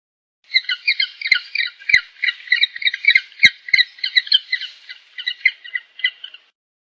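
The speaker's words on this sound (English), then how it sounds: "Penguin." Penguins call in a long run of harsh, rapid squawks, loud and close, pulsing in quick bursts with a few sharp clicks among them and no talking.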